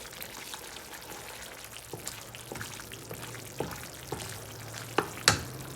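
A utensil scrapes and taps in a pan with soft irregular clicks over a low sizzle, ending in a couple of sharper knocks.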